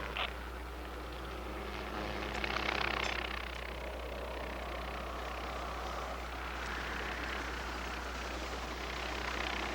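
A helicopter hovers low, about forty feet up. Its engine and rotor make a steady, loud, continuous drone for the whole stretch, with no voices.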